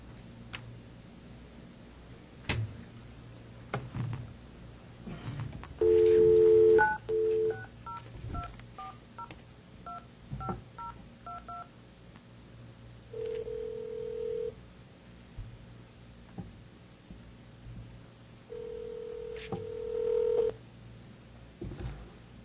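A touch-tone telephone dials out during an evening school governing board meeting to bring a board member in by phone: a burst of tone then a quick run of keypad beeps, followed by two long ringback tones in a quiet room.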